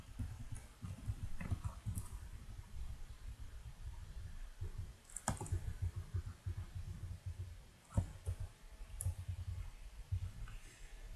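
Computer keyboard keys pressed during play of Dungeon Crawl Stone Soup, a soft irregular run of faint clicks and taps with a few sharper keystrokes, fairly quiet and close.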